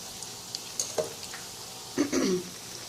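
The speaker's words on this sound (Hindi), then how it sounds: "अब फ़िश को फ्राई करना शुरू कर दिया।" Fish fries in a pan with a soft, fairly faint sizzle, broken by a few brief clatters and a couple of stirring or utensil scrapes near the middle and end, without talk.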